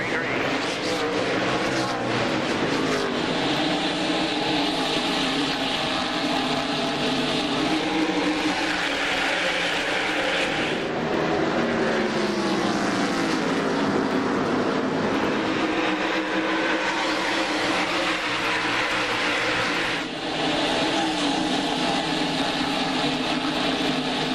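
NASCAR Winston Cup stock cars roar through a restart at Bristol Motor Speedway in the 2001 Sharpie 500, a dense, loud, continuous engine drone with pitch swells as the field accelerates.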